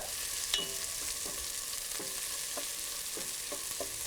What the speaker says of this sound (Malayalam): 2 തണ്ട് കറിവേപ്പില എന്നിവയിട്ട് നന്നായിട്ട് വഴറ്റുക.